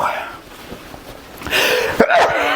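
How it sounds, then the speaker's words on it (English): A single sharp human sneeze bursts out near the end, loud and close, after a stretch of quiet breathing and faint rustling. "I'm going to pause here because I'm going to sneeze."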